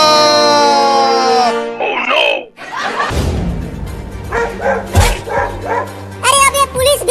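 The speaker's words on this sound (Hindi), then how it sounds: "अरे बाहर ये 2 खतरनाक कुत्ते हैं।" Dogs in an outdoor desi comedy sketch bark and yelp loudly in close bursts, with whining and overlapping shouting voices through most of the stretch.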